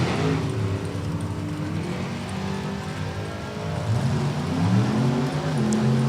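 Drag racing cars, a 66 Chevy II and a 68 Camaro, roaring engines with rising and shifting tones, loud and sustained over crowd-like ambient noise.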